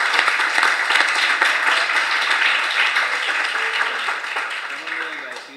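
An audience applauds after a university lecture on cultural studies, a loud, dense round of clapping that gradually tapers off, with a voice briefly heard near the end.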